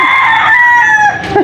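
A chicken crows loudly and close by in one drawn-out call, ending with a short cluck.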